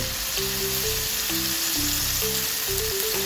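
Karaage chicken frying in hot oil, a steady dense sizzle and crackle throughout, loud and close, with a faint melodic tone playing underneath.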